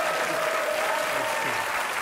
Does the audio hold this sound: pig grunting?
no